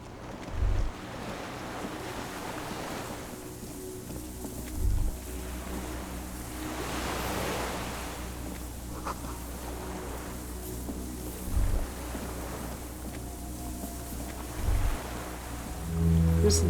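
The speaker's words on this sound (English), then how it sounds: "Distant sound of cargo ships." Distant cargo ships and open sea in Disco Elysium: steady surf and wind roll on throughout, with low, muffled thuds recurring every few seconds far off.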